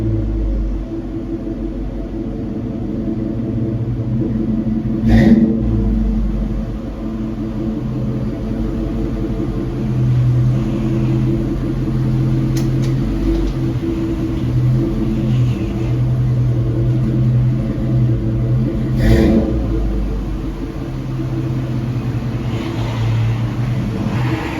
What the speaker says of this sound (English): Car's actually about to come in right now